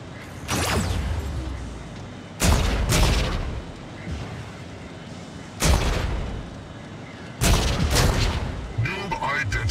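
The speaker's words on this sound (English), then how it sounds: "Opening fire." Gunfire in the mech combat video game Mech Arena: four heavy booming volleys of shots a few seconds apart, loud and close, over a rumbling background of in-game noise.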